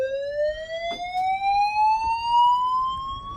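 A building fire alarm sounds during a zone 8 system test, a loud continuous electronic tone with strong harmonics sweeping slowly upward, with faint background noise and no talk.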